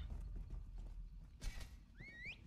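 A horse in the Elder Scrolls Online game world clip-clops over steady ambient noise, followed near the end by a whinny or high gliding call.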